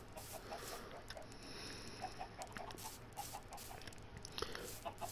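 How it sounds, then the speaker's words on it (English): Chickens in the Minecraft video game cluck softly and repeatedly against a low, steady background hum, faint and somewhat distant. "Come on. Okay, chickens."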